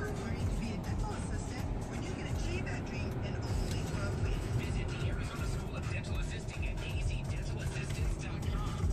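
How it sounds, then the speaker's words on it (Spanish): Dense road traffic with cars and buses passing, a continuous low rumble of engines and tires that stays steady throughout, with people talking over it. "Aguantar el tráfico."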